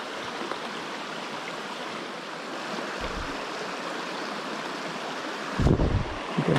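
A stream rushes steadily over rocks at a trail water crossing, a loud, continuous close wash of water with brief rougher bursts near the end.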